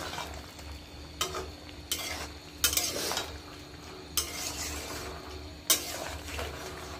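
A green banana curry with cumin being stirred in a pan, with scattered sharp scrapes and clinks of the spoon against the pot over a steady low frying hiss, no voices.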